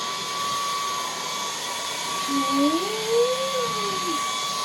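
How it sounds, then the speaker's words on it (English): A Dreametech K17 cordless vacuum cleaner runs on high power with a steady motor whine and airy roar, its pitch shifting briefly as it moves, close by with no talking. "Power vacuum."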